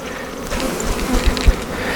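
Honey bees buzzing on a hive frame from which nectar is being shaken, a close, continuous insect drone with small swells and brief bumps, no talking.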